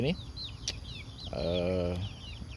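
Chickens in a backyard coop on an oil palm plantation peep and cluck in quick, high chirps, while someone talks nearby partway through.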